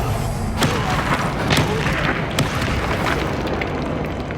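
Confringo fire-blast spell in Hogwarts Legacy bursting with loud, dense booming blasts and thuds, several sharp pops punching through a continuous roaring rumble.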